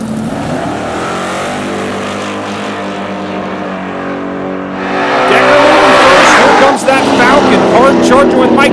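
Street-legal drag cars in a top-10 street car list race on a drag strip, with a steady loud engine roar that swells sharply about halfway through as the cars launch and pull hard, continuing loud to the end.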